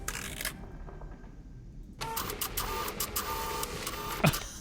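Printing sounds from a 3D printer in the video game Grim Chronicles: a mechanical whir that drops away briefly, then resumes as a busy stream of rapid clicks and buzzing, moderately loud and steady, with no voices.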